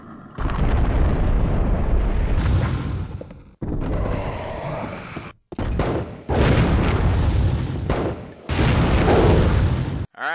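Grenade launcher HP rounds exploding in Resident Evil: The Umbrella Chronicles, four or five loud, close booming blasts in quick succession, each a dense roaring burst separated by brief gaps, with no talking.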